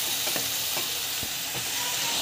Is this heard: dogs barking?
no